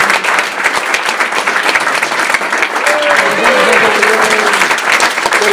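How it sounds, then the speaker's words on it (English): Wedding guests applaud at a reception for a best man's joke award, steady dense clapping throughout with voices and a brief whoop-like tone mixed in partway. "if we could all just give Alex a round of applause"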